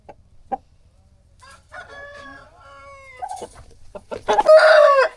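A fighting rooster of Dega breed crows near and loud, a single full crow near the end after scattered clucks and short calls, with a low steady hum underneath.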